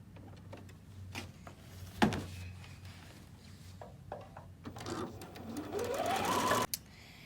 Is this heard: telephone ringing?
no